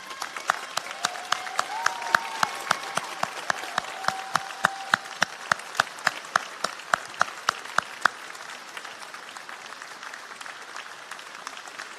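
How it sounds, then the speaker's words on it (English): Graduates at a Lincoln College graduation ceremony applaud their teaching staff, giving steady hall-filling applause that carries on with sharp individual claps standing out before slowly fading. "give them a round of applause to say thank you"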